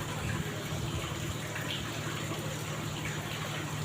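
Hot water gushes out steadily in a loud, continuous rushing spray that stays even throughout, with no voices over it.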